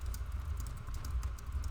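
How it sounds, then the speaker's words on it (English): A computer keyboard clatters with quick, irregular keystrokes during an online tabletop role-playing session. The taps are soft but steady and heard alone, with no talk over them. "Sorry, I keep on typing the wrong thing."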